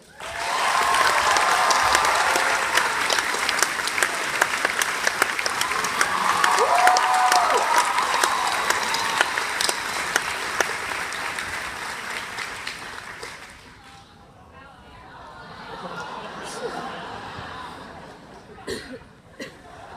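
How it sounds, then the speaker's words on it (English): A graduation audience gives sustained applause for a teacher serving as senior sponsor, a dense steady clapping with some cheers and chuckles that fades partway through and then picks up faintly again. "let's give a round of applause to our senior sponsor, Coach Boyd."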